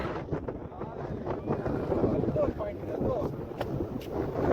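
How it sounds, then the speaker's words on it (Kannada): Cool wind gusts across the top of Savandurga, a huge monolithic rock hill, buffeting the microphone with a steady, rumbling roar that swells and eases over a few seconds. "ಏನ್ ತಂಪು ಗಾಳಿ ಮಗ"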